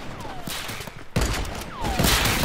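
Sniper rifle gunfire in Fortnite, two loud sharp shots about a second apart, each followed by a bright rising whistle and a booming tail, set in busy game noise.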